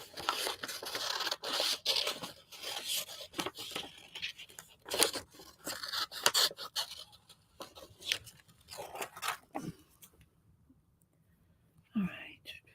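Scissors snip and paper rustles up close while paper collage figures are cut out, quiet irregular cuts and crinkles under soft whispered talk, fading to near silence toward the end.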